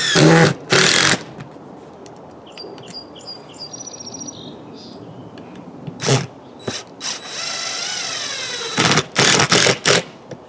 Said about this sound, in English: just raise it up a bit and then drive your 2 screws in